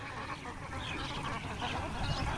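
Khaki Campbell ducks on a 500-bird farm in Muktagacha, Mymensingh, a flock quacking in a dense, overlapping chatter that stays fairly close and continuous throughout.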